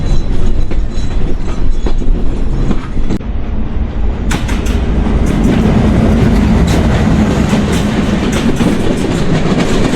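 A train runs near Baro Bazar railway station in Bangladesh, with loud, continuous rumbling and rhythmic wheel clatter on the rails, heard close up and without talk.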